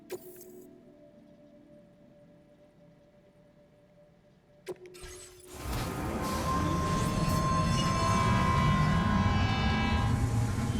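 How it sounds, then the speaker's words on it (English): A train in the Death Stranding 2 video game: a quiet hum, then a sharp clunk before the rumble swells into a loud, steady rolling roar of the moving train. "let's ride this train"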